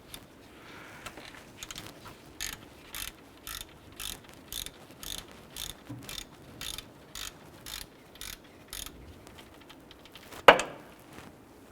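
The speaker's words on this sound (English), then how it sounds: "Using a 14mm socket and ratchet, we're going to go ahead and loosen the upper pivot bolt on our alternator." A ratchet on a 14mm socket loosens the upper alternator pivot bolt of a 2001-2005 Honda Civic, giving evenly spaced bursts of clicks roughly every half second, close and moderately loud, followed by a sharp clunk near the end.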